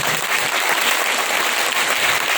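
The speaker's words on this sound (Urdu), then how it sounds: "چلے تالیوں سے بتا لیں کتنا کرتے ہیں" A church congregation claps steadily, a dense, even wash of many hands applauding together at moderate loudness, with no pause and no voices over it.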